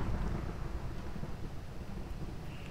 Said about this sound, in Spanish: siempre está ahí lloviendo y tronando